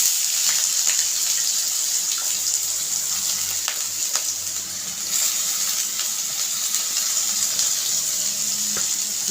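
Cut potatoes sizzling in hot oil, a steady bright hiss with faint crackles that runs without a break and holds at a constant loud level.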